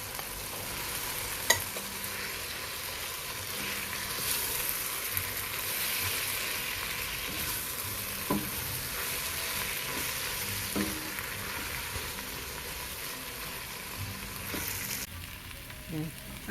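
Miso sautéing with crushed tomatoes in a pot for salmon and shrimp sinigang, a steady close sizzle and crackle that hisses on evenly, with occasional light stirring clicks and no talking.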